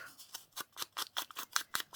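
Scissors snip through old paper in quick repeated cuts, about ten crisp close strokes in a fairly even rhythm, quiet and with no talking.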